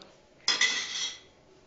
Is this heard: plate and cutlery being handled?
yes